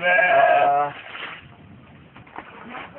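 A goat on a farm gives one loud, close, wavering bleat, followed by quieter rustling and faint background sounds.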